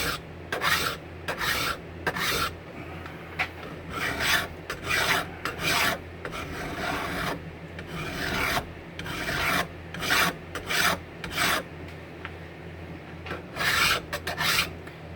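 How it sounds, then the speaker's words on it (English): A long metal hand file rasps across hardened steel in repeated strokes, each a harsh scraping burst separated by short pauses, close and fairly loud with no talking. "It's a longer file, so I cut a lot more."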